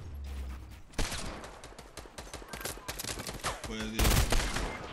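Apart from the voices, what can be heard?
gunfire in Fortnite video game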